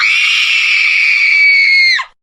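A voice imitating a sneeze done as a scream: one sustained, loud, high-pitched shriek lasting about two seconds, then a sharp downward cutoff, close and alone.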